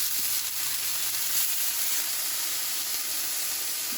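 Vegetables sizzle steadily in a hot frying pan, a continuous close hiss with a faint low tone near the start and no voices.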